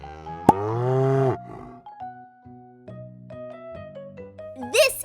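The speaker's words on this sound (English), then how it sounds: "And this is Apollo the cow." A single loud, close cow moo on a farm, starting strong and long, then trailing into softer low lowing and a few quieter calls.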